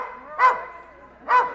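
A Border Collie at a dog agility competition barks twice, sharp and loud, close by, with a short pause between the two barks.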